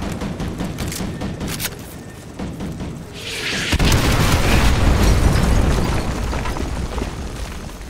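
Artillery strikes hit enemy vehicles in Call of Duty Modern Warfare 2, with a rumbling barrage that swells into a loud, sustained roar of blasts and debris, close and heavy.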